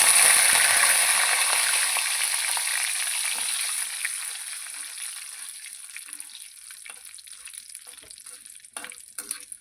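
Loud frying sizzle of curry leaves in hot oil that starts strong and gradually fades, with a few clinks of a utensil near the end.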